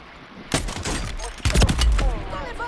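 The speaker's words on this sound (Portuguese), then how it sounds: "Tô levando tiro." Rapid bursts of gunfire crackle and thump close by in the video game Call of Duty: Warzone, mixed with loud impacts and a voice talking over the action.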